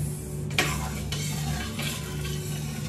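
A spoon stirring dal makhani after Kashmiri red chilli powder goes in, with a few scraping strokes against the pot over a low steady hum and faint background noise, no one speaking.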